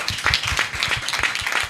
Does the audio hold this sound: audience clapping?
yes